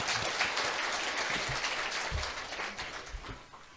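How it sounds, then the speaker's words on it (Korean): A church congregation claps in thanks for three visiting pastors from China, a moderately loud, steady patter of many hands that thins slightly toward the end. "우리 감사의 박수로 하나 부탁드립니다"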